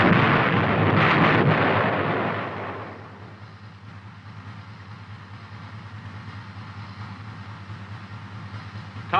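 An M551 Sheridan light tank fires its main gun, one loud blast that rolls and decays over a few seconds into a low rumbling engine drone.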